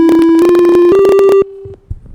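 Computer-synthesized sine wave notes for C, D, E, F and G, heard as clean, steady pure tones stepping upward in pitch one after another, loud and alone, with a brief quieter tail at the end.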